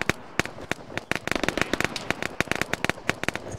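Rapid rifle and gun shots crackle through an Arma 3 firefight, a dense irregular string of sharp reports, some close and loud, others farther off, with no talk over them.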